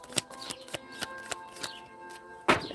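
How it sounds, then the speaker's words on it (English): Tarot cards being shuffled by hand, a run of crisp riffling flutters and slaps repeating in an uneven rhythm close up, over soft background music with no speech. "I heard the shuffle."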